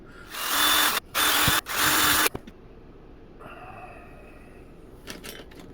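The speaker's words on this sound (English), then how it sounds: "I'm basically just going to drill this, boom, straight down" A power drill bores straight down into an outrigger kit part in three loud, close whirring bursts, then stops, leaving quiet room noise and a faint clatter.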